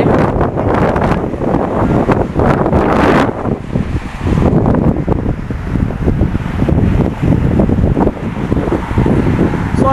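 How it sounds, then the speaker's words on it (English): Strong wind by the River Thames roars and buffets the microphone continuously, loud and gusty throughout, with a brief lull partway through. "Pretty windy today."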